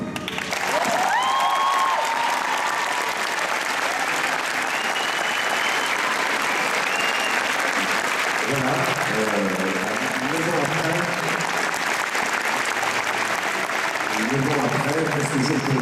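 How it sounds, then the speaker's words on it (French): Audience applause during a speech, a long sustained wash of clapping from a large crowd that stays loud throughout, with a few voices calling out near the end. "je dois vous applaudir très fort"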